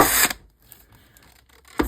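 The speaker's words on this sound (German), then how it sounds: "geht es mit dem kleinen Bohrer da rein" A small drill bit bores into a wooden stick in two short, whirring bursts, one at the start and one at the end, with a near-silent pause between them.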